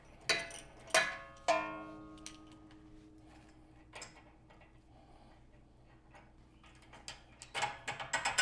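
Wrench working on a Jeep JKU sway bar end link: sharp metallic clicks and clanks with ringing tones, a few loud strikes early, then quieter ticking and a flurry of rapid clicks at the end, close by.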